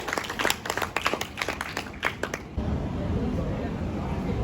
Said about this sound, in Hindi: जोरदार ताली में कमी, हम शेर हैं, भेड़ नहीं है, तालियों में आवाज होनी चाहिए